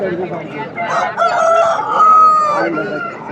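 A rooster crows loudly and close at a chicken market in Vijayawada, one long drawn-out call rising and holding before trailing off, with clucking and a voice in the background.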